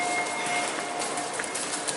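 A subway train runs at a station in Osaka with a steady, loud broadband rush and rumble, with faint squeals and clatter over the continuous noise.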